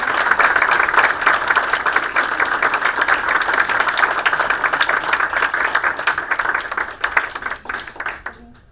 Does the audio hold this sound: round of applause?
yes